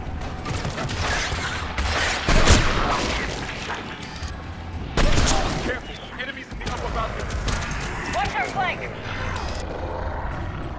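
Gunfire in the Mass Effect 3 video game: several loud bursts of shots and impacts amid dense combat noise, with a voice talking over much of the action.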